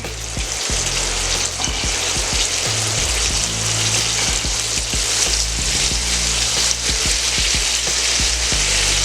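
Chicken thighs and breast deep fry in oil at about 350 degrees, a loud, dense, unbroken bubbling hiss with faint crackles throughout, close by and with no voices.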